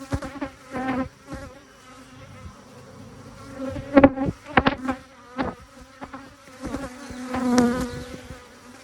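Honeybees buzz around an open backyard hive during an inspection, their droning rising and falling in bursts as individual bees pass close, with louder flurries near the end.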